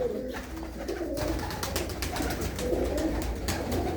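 Pigeons cooing close by in a rural village loft near Khanna, soft repeated low coos layered over a faint background murmur with occasional sharp taps and rustles.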